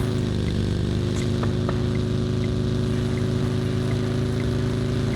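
A motorcycle engine in a video game idling and running at a steady, constant drone, loud and continuous with no pauses, no talking.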